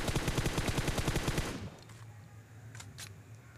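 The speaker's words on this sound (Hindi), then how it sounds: "जब मैं फायरिंग कर रहा हूँ" Rapid automatic gunfire in the mobile shooter BGMI, a fast steady burst of shots for about a second and a half, then it cuts off and leaves quiet game ambience.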